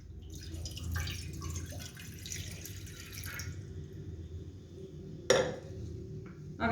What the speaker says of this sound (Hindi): पैन में सबसे पहले पानी डालेंगे।